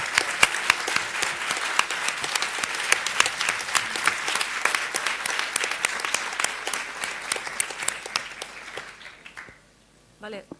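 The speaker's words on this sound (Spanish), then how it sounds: "Un aplauso." Sustained applause from the audience at a political assembly, dense and fairly close, with a voice audible beneath it before the clapping fades out near the end.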